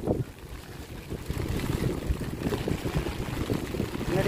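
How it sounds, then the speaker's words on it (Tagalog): Strong wind from a Hong Kong typhoon under a Signal No. 8 warning, blowing in a loud continuous rush with gusting, buffeting noise against the microphone. "Naririnig niyo yung hangin."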